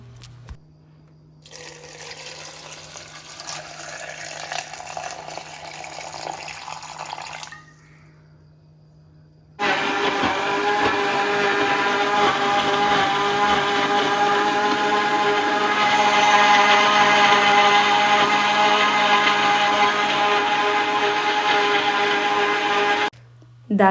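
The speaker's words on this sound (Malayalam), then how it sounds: "ഞാൻ മിക്സിയുടെ ജാർ എടുത്തിട്ട് നമ്മൾ കട്ട് ചെയ്ത് വെച്ച ക്യാരറ്റ് അതിലേക്ക് ഇട്ട് കൊടുക്കാം" A kitchen mixer grinder blends chopped carrots with water in two bursts, a short whirring run, a brief pause, then a longer, louder steady motor drone that cuts off abruptly.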